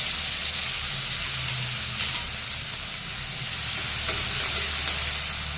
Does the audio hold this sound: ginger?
yes